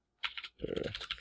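Quick bursts of close typing on a computer keyboard, a short cluster of keystrokes then a denser run of clicks, soft and up close.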